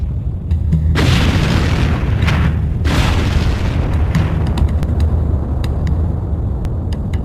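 A deep roaring boom of volcanic gas bursting out of lava, a sustained rumbling blast with a second surge, loud and heavy, followed by sharp crackling pops.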